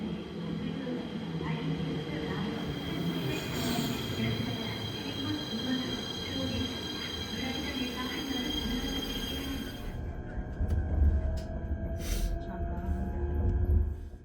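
An ITX-Maeum train bound for Gangneung on the east coast runs steadily with a loud, continuous rumble of rolling wheels, then a brief higher squeal and heavier clatter near the end.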